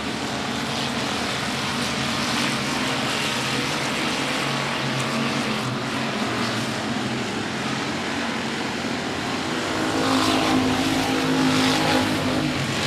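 Race cars run laps at the 105 Speedway during a regular race program, a steady dense engine roar from the field that swells louder near the end as cars pass close.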